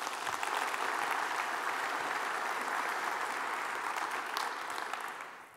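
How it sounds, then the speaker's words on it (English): At a regional investors breakfast, an audience breaks into steady, moderately loud applause that holds evenly before tapering off at the end. "So please give them a round of applause for me."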